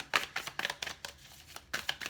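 A heavy tarot deck is shuffled by hand in several short crisp riffling bursts with brief pauses between, close and fairly quiet.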